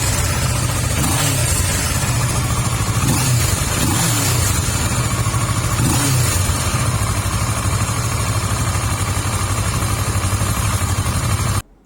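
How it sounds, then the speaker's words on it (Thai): A black 2017 Kawasaki Versys 650 motorcycle engine idles close up, then revs in several short, sharp bursts before settling back to a steady idle, running alone with no voices until it cuts off abruptly. "ฟังเสียงเครื่องกันนะครับ"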